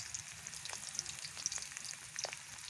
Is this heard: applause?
no